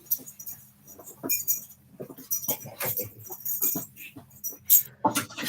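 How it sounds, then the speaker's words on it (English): A dog whimpers and yelps in short, loud bursts, with bright metallic rattles like jangling keys scattered through the clip. "the dog's getting loud here"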